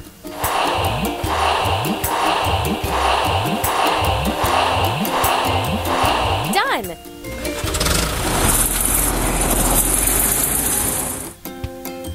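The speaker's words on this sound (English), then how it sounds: "Earth mover." Earth mover engine in a children's truck-building game, a rhythmic, chugging mechanical pulse that repeats steadily for several seconds and then gives way to a louder, continuous whirring hum before cutting off.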